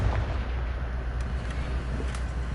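A Confringo fire spell blasts in Hogwarts Legacy, giving a dull, rumbling explosion with a heavy low boom and a couple of brief sharp cracks, sustained over the whole moment.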